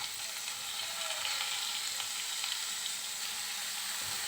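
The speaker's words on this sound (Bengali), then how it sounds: "কোয়াশ দিয়ে নেওয়ার পর একটু ভেজে নিচ্ছি।" Pieces of squash fry in a pan with dal, producing a steady close hiss of sizzling oil with faint occasional stirring scrapes and no voices.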